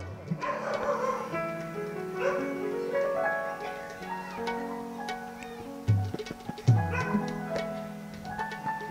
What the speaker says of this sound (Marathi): आपल्या कथेला कुत्रे पण आहेत महाराज